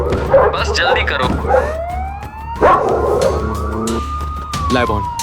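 A police siren sweeps upward in a long, rising wail and holds at a high pitch, mixed with a few barks and hurried voices talking over it.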